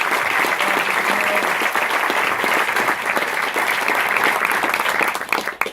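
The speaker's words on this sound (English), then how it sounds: "Let's give him another round of applause." Audience at an event at Bethel Woods gives loud, dense, sustained applause that fills the room evenly before tapering off abruptly at the end.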